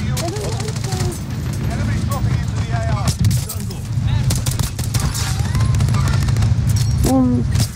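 Rifle gunshots in a video game, probably a K31, ring out as scattered sharp cracks over a steady low rumble, with people talking throughout.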